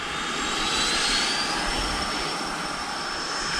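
RC plane taking off into the wind, a loud continuous electric motor whine rising steadily in pitch against broadband airflow noise, close and uninterrupted.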